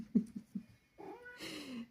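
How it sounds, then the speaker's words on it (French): A domestic cat gives a few soft, close sounds followed by a drawn-out meow that rises into a harsher cry, heard alone indoors. "Non, le chat."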